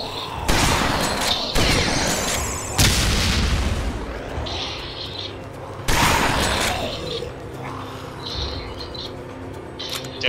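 Heavy booming shots ring out in bursts in the video game Dead Effect 2, several blasts with echoing tails, as someone talks over the action and faint chirps sound in between.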